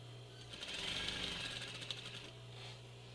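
A sewing machine stitches a fabric medical mask, a steady quiet mechanical whir with a low hum underneath, running continuously without talk.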